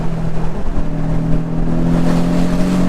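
A turbocharged four-cylinder engine in a tuned 2018 Porsche 718 Boxster drones loudly and steadily, with a rising revving tone as it pulls under load.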